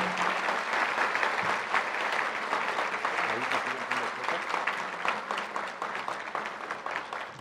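Sustained applause rolls through a hall at the Bernardo Quintana Arrioja award ceremony, a fairly soft, steady crowd clapping that continues evenly, with a voice faintly audible at the start.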